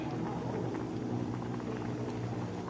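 Clear soup broth seasoned with coriander root and salt bubbling at a steady boil in a pot for Thai egg omelette soup, a continuous close simmering roar with no talk.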